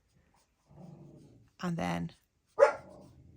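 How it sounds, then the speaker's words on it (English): Household dog heard indoors: a couple of short, sharp barks and a muffled whine mixed in with a person speaking briefly. The barks are moderately loud and come in quick separate bursts. "Excuse the dog barking."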